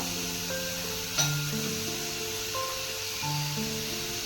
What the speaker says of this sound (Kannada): ಟೊಮೆಟೊ ಎಲ್ಲ ಚೆನ್ನಾಗಿ ಸ್ಮ್ಯಾಶ್ ಆಗೋ ಥರ ಫ್ರೈ ಮಾಡಬೇಕು